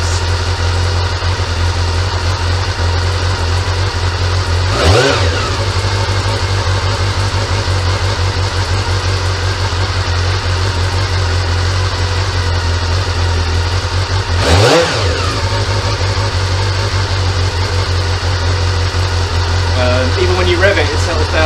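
A Honda CB-1 (NC27) motorcycle engine idles steadily up close after carburetor bench syncing, with two quick revs that rise and fall back to a smooth tick-over.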